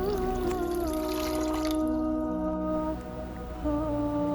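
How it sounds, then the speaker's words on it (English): One cup of water is poured steadily into a saucepan of sugar for syrup, a continuous close liquid pour over a constant kitchen hum, with no talk. "To this adding 1 cup of water."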